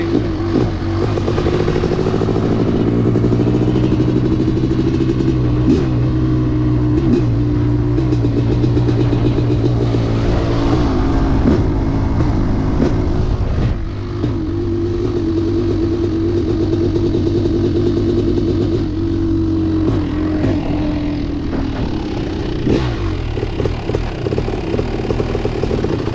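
A Yamasaki YX500 motorcycle engine runs steadily and loud throughout, a continuous mid-pitched drone with mechanical clatter and small shifts in pitch, close to the listener and without talk.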